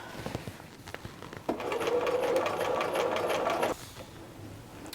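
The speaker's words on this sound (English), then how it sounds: "I'm just lining up this outside edge with the edge of the presser foot because that's going to be a little bit easier to follow. And then we're just going to stitch around." A sewing machine stitches around a hem with the fabric edge guided along the presser foot, giving a steady, close mechanical whir for a couple of seconds that starts and stops abruptly between quieter moments.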